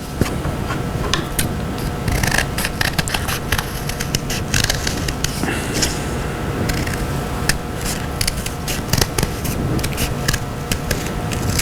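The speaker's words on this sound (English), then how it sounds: "now I'm going to cut myself another set of ornaments" Scissors cut ornament shapes out of a white paper plate, giving a steady run of close, crisp snips and paper rustles with no talking.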